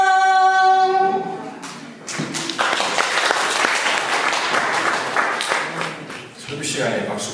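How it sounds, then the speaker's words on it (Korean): Church congregation applauding during a Sunday worship sermon, a sustained burst of clapping filling the hall after a spoken line, fading slightly toward the end. "설교 시간에 박수가 나오네."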